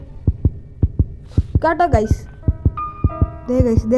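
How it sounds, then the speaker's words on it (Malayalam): A heartbeat effect from the Granny horror video game plays as a steady series of deep, close thumps, repeating at an even pace while someone talks excitedly over it. "അതെടുത്തിട്ട് നമ്മുടെ നെഞ്ചിടിപ്പ് കേട്ടോ ഗൈസ്"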